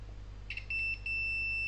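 A multimeter's continuity tester beeps while probing a Thomson 65UD6336 smart TV during repair: a few short chirps, then a sustained high steady tone over a quiet low hum.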